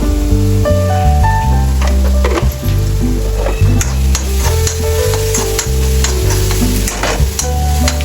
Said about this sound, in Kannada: ಎಣ್ಣೆಲಿ ಸ್ವಲ್ಪ ಚೆನ್ನಾಗಿ ಫ್ರೈ ಮಾಡ್ಕೋಬೇಕು.